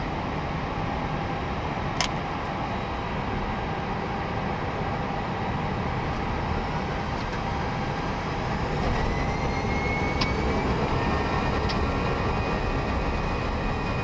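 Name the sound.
Vueling Airbus A320-200 jet engines during takeoff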